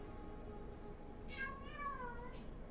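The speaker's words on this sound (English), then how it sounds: "There's a cat just passing next" A cat meows twice in a row, the second call longer with a falling pitch, fairly close over a low steady background hum.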